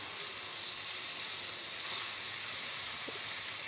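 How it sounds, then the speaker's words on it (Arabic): A garlic clove fries in oil already flavoured by fried onions, giving a steady, close sizzle and hiss throughout with no talking. "الزيت اللي مكان البصل ده مش هنرميه هننزل فيه بفص الثوم نحمره فيه"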